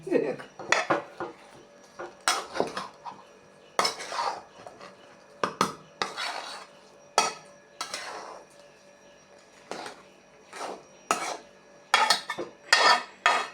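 Pickle stirred with vinegar and pickle powder, a metal spoon repeatedly clanking and scraping inside the pot in uneven strokes, close up with short pauses between.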